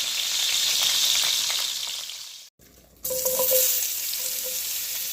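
Onions going into hot oil in a pan where pork steaks were browned, a steady loud sizzle and fry that drops out briefly, then resumes with fresh crackling and hiss up close.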